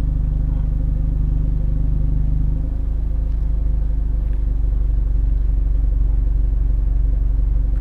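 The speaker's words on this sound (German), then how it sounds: "das, was ihr jetzt gleich hören werdet, ist wirklich nur absoluter Leerlauf" A vehicle engine idling at rest during a stationary noise measurement, giving a constant loud low rumble with a faint clatter, near and unbroken for the whole stretch with no talk.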